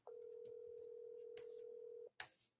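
A phone dialer placing an outbound sales call gives a steady dial tone for about two seconds, then stops, followed by a brief sharp click and burst of noise on the line.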